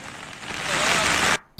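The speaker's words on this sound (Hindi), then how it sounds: "यहाँ पर जो है बारिश लगातार हो रही है" Heavy monsoon rain pours steadily onto waterlogged streets at Bhagat Singh Chowk in Haridwar, a loud, dense broadband hiss that swells, then cuts out abruptly near the end before resuming.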